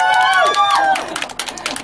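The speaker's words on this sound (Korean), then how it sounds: "박수!" An audience applauds at a rehearsal party concert by a Korean tribute band. A sung or spoken tone fades out, then scattered, crisp claps rise and continue.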